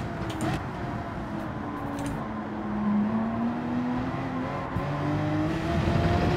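A Gran Turismo 7 race car's engine drones steadily and climbs in pitch as the driver gets on the throttle, loud and close throughout, with faint tire noise.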